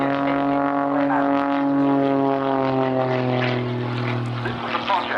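Rich Goodwin's jet-powered Pitts aerobatic plane flying at the Cosford Air Show, a loud, steady engine drone with a sustained whining tone that shifts slightly in pitch as it passes close by.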